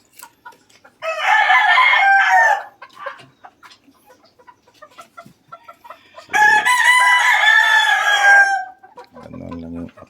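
Small backyard chickens, with a rooster giving two loud, drawn-out crows close by, separated by quieter scattered clucks and a short low call at the end.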